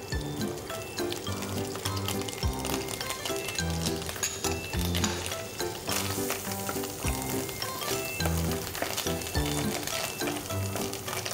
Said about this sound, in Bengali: আমরা এখন মাশরুমটা ভেজে নেব